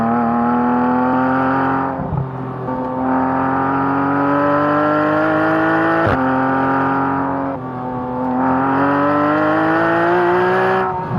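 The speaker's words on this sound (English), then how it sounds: "It's a musical exhaust note, that one." A sports car's engine and exhaust roar loudly up through the gears, each pitch climb broken by quick dips at the shifts, close and steady with no talking.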